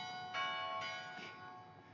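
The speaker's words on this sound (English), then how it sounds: "That classic bell to indicate that it's 6:14 a.m." A bell chimes three times in quick succession, each tone ringing with bright overtones and a lingering decay, fairly faint and alone.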